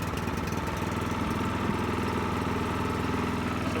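A Husqvarna snowblower engine runs at a steady idle, a close, loud, even small-engine putter that holds for a few seconds with no voices.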